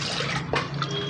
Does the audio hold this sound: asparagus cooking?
no